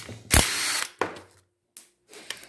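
A ratchet works on the bolt of an overhead valve cover on a Briggs and Stratton small engine, giving a few close, sharp clicking bursts separated by brief silences.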